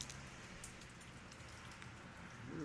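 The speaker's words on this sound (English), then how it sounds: "Now it's not raining too hard. But nonetheless, it's raining." Light rain falls steadily and softly outdoors during a thunderstorm, a quiet, even hiss of drops with no voices present.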